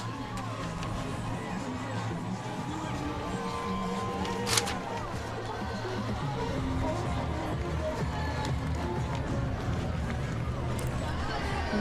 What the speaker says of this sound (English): Huge crowd of people marching behind it as well.